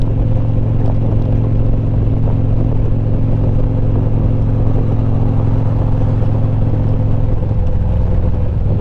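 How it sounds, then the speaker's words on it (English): Heavy traffic rumbles past on a wet, rainy road, a loud continuous engine and tire drone with the hiss of spray, close by and unbroken until a slight easing near the end. "Wouldn't be so bad if it wasn't for the spray from all the traffic"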